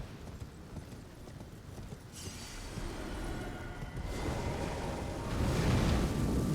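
In Elden Ring, a horse gallops with rapid, fairly faint hoofbeats over a rumbling game backdrop that gradually swells louder, with no speech.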